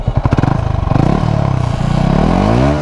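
A modified Yamaha R15 V4 motorcycle engine blips sharply a few times, then holds a loud, close, raspy rev that rises and falls, alone without talk.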